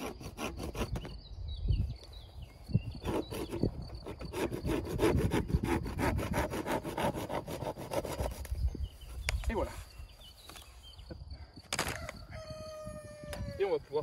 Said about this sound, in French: on peut le couper tout simplement à la scie.